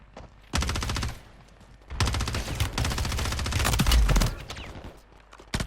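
Rapid automatic gunfire from Call of Duty Warzone in a mutant mod, loud and close in two long sustained bursts separated by a brief gap, with another burst starting at the end.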